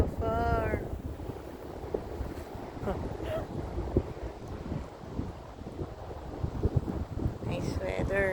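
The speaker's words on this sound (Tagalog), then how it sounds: "So windy." Strong wind buffets the microphone outdoors on a fishing trip near water, a steady rumbling roar running throughout, with people talking over it at times.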